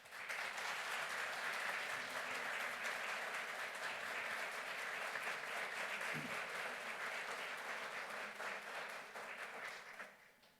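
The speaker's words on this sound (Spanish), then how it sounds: "le brindamos un aplauso" Dense, steady audience applause fills a tribute ceremony honoring Ángeles González Gamio, holding at full strength throughout and easing slightly at the very end.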